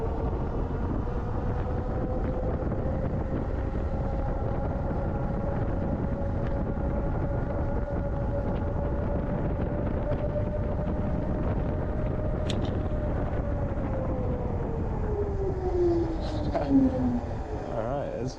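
An Andsky E300 foldable fat-tire e-bike speeds downhill, its electric motor whining as a steady tone over constant loud wind rush, the pitch dipping near the end.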